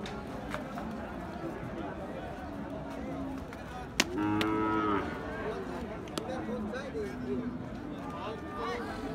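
A Sahiwal bull at Ambari cattle market gives one loud, drawn-out moo midway, over a steady background of market chatter and nearby people talking.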